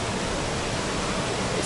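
A waterfall along a tourist hiking trail pours with a steady, dense roar of rushing water, loud and constant throughout with no voices.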